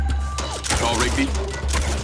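Brief MindsEye video game gunfire: a loud fusillade of shots over a low rumble, with game voices talking over it.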